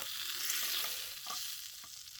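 Meat searing in a pan over a campfire on a rainy day hike, a soft, steady hiss and sizzle heard at a distance, with no talk.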